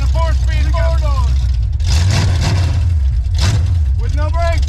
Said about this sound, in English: We're driving a 4-speed 4-door.